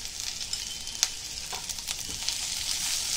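Chilli, capsicum and onion frying in a hot pan, a continuous faint hiss of sizzling oil with a few light stirring taps, close up and without speech.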